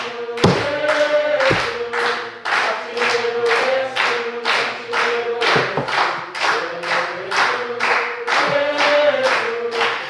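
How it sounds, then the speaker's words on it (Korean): A church congregation claps in unison during a Sunday sermon, keeping a steady, brisk rhythm of sharp hand claps over a sustained sung or chanted tone, with a few heavier thumps mixed in. "다시 한번 박수 쳐가면서"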